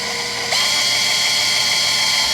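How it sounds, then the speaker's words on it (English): A high-pitched power drill boring a hole in a plastic bottle whines steadily after a brief quieter start, a continuous buzzing drone close up. "So let's get to drilling this hole."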